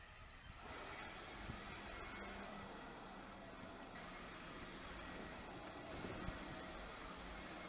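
A Lefant M210 self-charging robotic vacuum runs in automatic mode, giving a steady, even motor hiss and whir with slight fluctuations as it moves about, continuous and fairly close without any talking.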